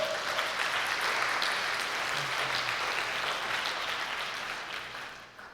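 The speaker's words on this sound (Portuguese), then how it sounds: "Você pode aplaudir o Senhor?" A church congregation applauds during a Sunday evening worship service, a dense, steady wash of clapping hands that carries on for several seconds before gradually thinning out.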